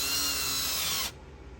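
A power tool drives a brake pad retainer screw during a rear brake job on a Kia Sorento, giving one close, loud whirring burst that cuts off abruptly.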